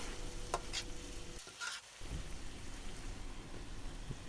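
Curry vegetables and chicken stirred through in a hot pan with red curry spices, a soft continuous sizzle broken by a few scraping spoon strokes and a short lull in the middle.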